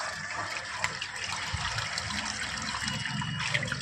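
Water gushes steadily out of a heavy-iron water filter being backwashed, a continuous rushing flow with a broad hiss that holds fairly even throughout, no voices.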